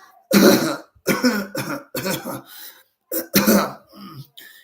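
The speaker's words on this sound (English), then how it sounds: "I apologize for the cough." Several harsh coughs in quick succession, close and fairly loud, broken by brief pauses, from a man whose Tourette's brings on coughing when he is excited or agitated.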